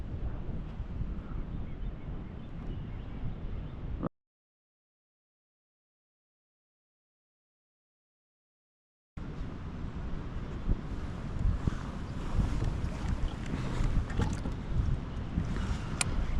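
Strong wind gusts buffet a kayak out on an open bay during a bass fishing tournament, a steady loud rumbling roar that drops to silence partway through and then resumes.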